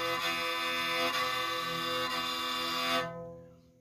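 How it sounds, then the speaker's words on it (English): A tagelharpa, a bowed lyre, is bowed across all its strings at once, giving a sustained, buzzing, rich drone chord for about three seconds before it stops abruptly, close and alone. "But if you play all of them, it will sound like this."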